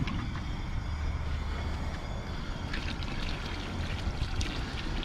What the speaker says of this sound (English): I'm going to go ahead and add a little bit of water to this right now